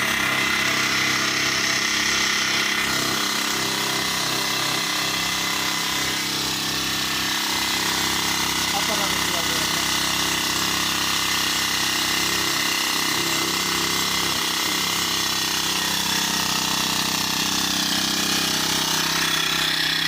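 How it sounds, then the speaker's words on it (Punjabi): A petrol-engine crop sprayer runs steadily close by, giving a continuous loud motor drone with a buzzing, machine-like texture that hardly changes for the whole stretch. "ਇੰਜਨ ਵਾਲੀ ਢੋਲੀ ਆ ਇਹ ਪੈਟਰੋਲ ਪੈਂਦਾ ਇਹਦੇ"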